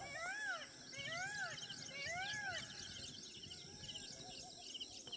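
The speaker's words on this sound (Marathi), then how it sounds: "पाहिलंच मोरांचा आवाज" Several rising-and-falling wailing peacock calls repeat at a steady pace, one answering another, faint and distant, over soft background chirping and rustle.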